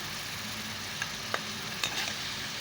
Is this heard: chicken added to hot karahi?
yes